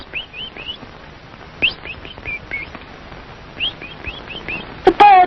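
A cartoon bird chirps in a children's animated story, with quick bursts of short, bright tweets repeating in several runs, close and clear, ending with a louder flurry.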